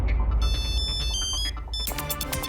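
A phone ringtone in a cartoon plays a short repeating electronic melody, then shifts to brighter, harsher tones near the end; close and fairly loud.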